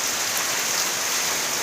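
Rain falls in a steady, dense hiss, loud and unbroken throughout, with no voices.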